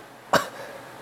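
A dying man gives one short, harsh cough, close and sudden, followed by quiet room tone.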